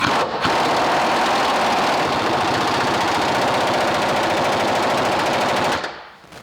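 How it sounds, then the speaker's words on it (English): An impact gun works on the lower control arm of a 2008 Ford Escape, giving one loud, continuous rapid hammering rattle for about five seconds before it cuts off abruptly. "so now we can go with the impact gun"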